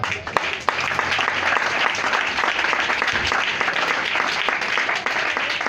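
A church congregation bursts into sustained, loud applause that fills the room evenly for several seconds.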